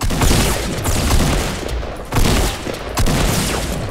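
Dense automatic gunfire in Fortnite rattles loudly and continuously, with two brief gaps where the bursts break off before resuming at close range.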